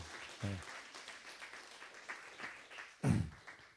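A church congregation applauds during a Sunday sermon, a soft, diffuse patter of clapping heard at a distance, with a couple of brief low voices or bumps breaking through.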